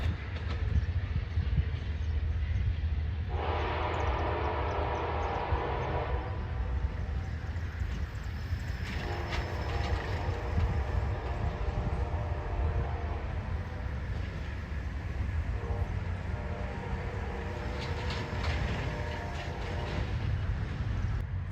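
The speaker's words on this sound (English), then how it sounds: "listen to that horn" A freight train rumbles past steadily, and its horn blows several long, moderately loud blasts over the rolling noise of the cars, fading as the train moves into the distance.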